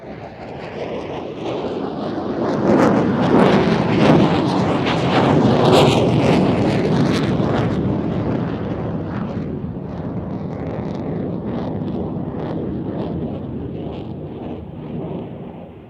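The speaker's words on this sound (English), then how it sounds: "the F-16 enters another 360, really pulling hard to complete this turn" An F-16 Falcon fighter jet pulls hard through a 360-degree turn at an airshow in Pakistan, its engine roar swelling to a peak and then fading gradually, heavy and rumbling with wind buffeting on the microphone.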